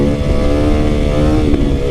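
A supermoto dirt bike, a DRZ 400 or KLX 300, revs loud and close, its single-cylinder engine holding a steady buzzing drone with a slight lift near the end, no voices over it.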